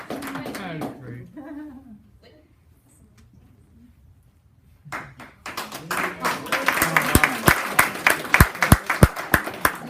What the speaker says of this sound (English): I would like to give the girls another round of applause.